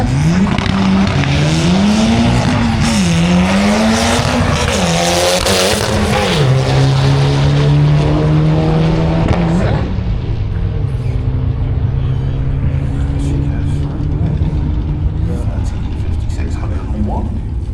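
Four-cylinder drag racing cars launch at Santa Pod Raceway with a loud, rising engine roar and shifting revs that fade down the strip, as an announcer talks over the noise.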